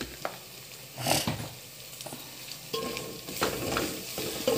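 Mutton curry with cucumber and fenugreek leaves is stirred in a frying pan, a few scraping strokes over a gentle sizzle, close and moderately quiet.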